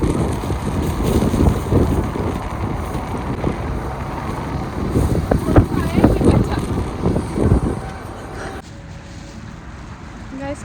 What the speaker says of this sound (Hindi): इतनी ठंडी हवा चल रही है